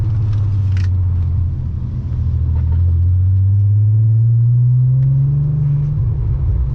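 A Nissan Skyline R32 drives along with a loud, steady engine drone heard from inside, its low rumble rising in pitch as the car accelerates through a gear.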